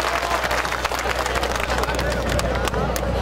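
Audience at a union assembly applauding, a steady dense wash of clapping with crowd noise throughout, fairly loud and close.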